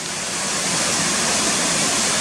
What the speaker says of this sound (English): a nice bird's eye shot of the waterfalls coming down SWINNERGILL